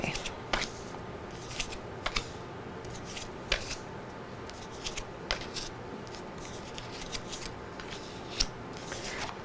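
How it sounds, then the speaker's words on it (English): Tarot cards being laid out one by one on a table, giving sharp, irregular snaps and slaps over a quiet background, with no speech. "let's lay down all the other cards here, and then we'll come back to this in a second"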